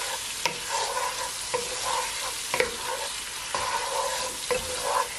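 Salt fish frying in a pan for Jamaican cabbage and salt fish is stirred, with a steady loud sizzle punctuated by regular spoon scrapes and taps against the pan.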